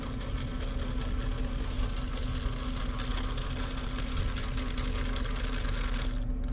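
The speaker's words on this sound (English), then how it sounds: "Once the 12-lead is complete, it will automatically start printing." A 12-lead EKG monitor prints out an ECG strip, giving a continuous close mechanical whirring hum at an even pace that cuts off abruptly just before the end.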